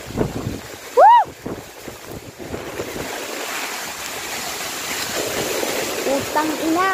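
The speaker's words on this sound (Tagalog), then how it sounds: "Napakalakas pa po ng hangin." Strong typhoon wind roars and buffets the microphone in sustained gusts, with a short shout early on and voices faintly heard amid the storm.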